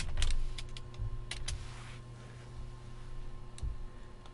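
Computer keyboard keys clatter as a search is typed, a few quick clustered taps with pauses between, close and fairly clear over a quiet room hum.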